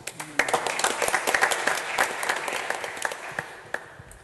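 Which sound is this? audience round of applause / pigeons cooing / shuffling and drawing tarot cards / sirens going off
audience round of applause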